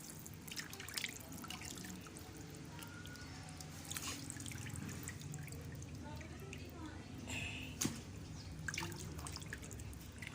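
Tap water runs and splashes steadily over raw chicken being washed for adobo, with scattered drips and wet handling sounds, faint and close, while a voice talks at times.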